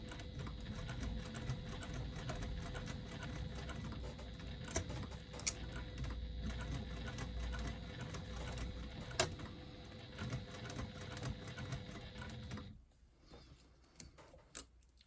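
A sewing machine back stitches a lining gusset, giving a faint, steady mechanical whir and rapid ticking that runs for about twelve seconds before stopping, followed by a few small clicks.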